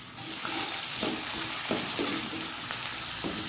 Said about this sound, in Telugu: ఆనియన్ పచ్చిమిర్చి మంచిగా బ్రౌన్ కలర్ అయిన వరకు ఫ్రై చేయాలి